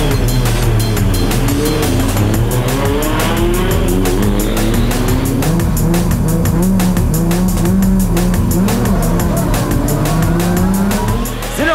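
Race cars launching from a traffic-light start at a 2023 drift competition, heard as loud, sustained engine roars climbing through the revs, with squealing tires throughout.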